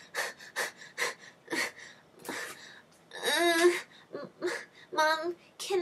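An adult voice imitates a young child breathing heavily while trying to talk, with a series of sharp, panting breaths followed by strained, wheezy voiced gasps and whimpering sounds, close and clear.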